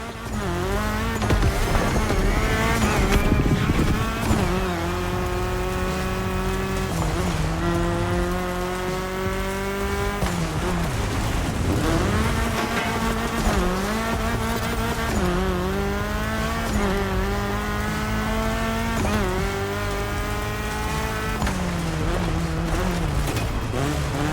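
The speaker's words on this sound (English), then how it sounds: "First thing that comes to mind is the Audi S1 EKS RX Quattro, a 600 HP four-wheel drive." An Audi S1 EKS RX Quattro, a 600 HP four-wheel-drive rally car in the video game The Crew Motorfest, is driven hard off-road, with the engine continuously revving and shifting up and down, loud and close with no talking.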